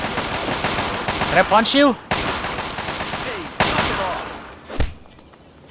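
Enemies trading gunfire in Fallout 3, bursts of rapid shots and sharp impacts with a loud blast near the end, heard under someone talking.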